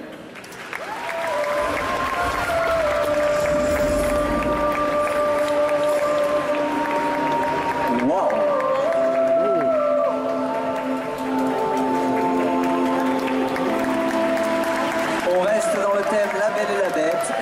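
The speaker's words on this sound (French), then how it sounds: "Un tonnerre d'applaudissements pour Naomi, s'il vous plaît" A crowd at an indoor costume parade claps and cheers for a contestant in a handmade princess dress. The applause holds steady throughout, with sustained music and voices running under it.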